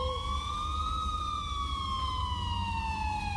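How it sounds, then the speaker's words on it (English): A police siren wails steadily in the distance, its rising and falling tones carrying over a low rumble of background noise, with no one speaking. "I finally heard sirens in the distance"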